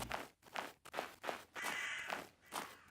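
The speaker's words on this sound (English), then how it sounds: "These crows are loud." Crows in a video game cawing loudly and repeatedly, a rhythmic series of harsh calls roughly half a second apart, close and clear with no talking.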